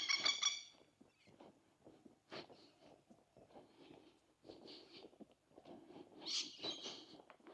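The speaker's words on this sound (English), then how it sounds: "Lot of birds" Birds call faintly outdoors near Innisfail in tropical Australia, with a short burst of high chirps at the start and another cluster near the end, separated by quiet rustling and soft, scattered sounds.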